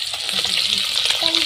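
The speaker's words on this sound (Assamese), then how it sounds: "এয়া মোৰ কণী ফ্ৰাই কৰা হ'ব" An egg fries in hot oil with a close, continuous crackling sizzle, bright and steady throughout.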